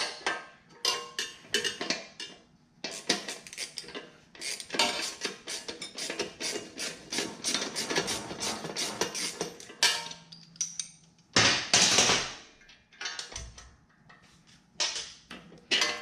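A 19mm wrench working loose a rear nut on a Harley 883 motorcycle while swapping its shocks, rapid ratcheting clicks in bursts with pauses and a few metallic clanks, close and fairly quiet.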